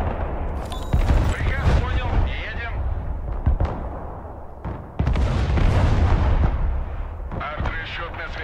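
Artillery fire from a Pounder battery in the Broken Arrow video game, heavy booming shots and rumbling explosions that surge and fade in a dense battle din, with a player talking over the barrage.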